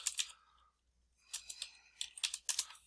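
Quick bursts of typing on a computer keyboard, two short clusters of crisp key clicks separated by a brief pause, close and fairly quiet.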